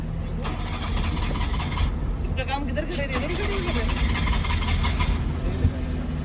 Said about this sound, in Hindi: स्टार्ट हो रही है गाड़ी